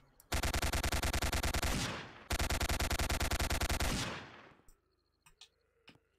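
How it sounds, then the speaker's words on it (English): Enemy players in Apocalypse Rising fire an automatic weapon. The sound is two long, loud, rapid bursts of machine-gun shots with a short gap between them, followed by a few faint, scattered shots. "They're trying to shoot me."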